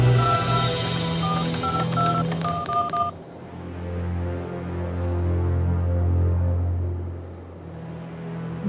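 DTMF keypad tones from a phone number being dialed, a quick run of distinct beeps over the first three seconds, followed by a steady low hum and rumble for the rest.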